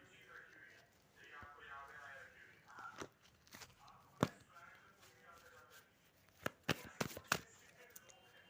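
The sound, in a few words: tarot cards being taken out and shuffled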